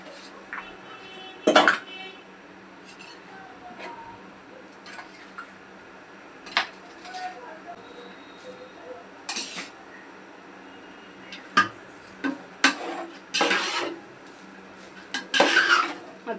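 A spoon stirring rice with ghee in a pot, giving scattered metallic scrapes and clinks at irregular intervals against a quiet kitchen background, with occasional soft talk.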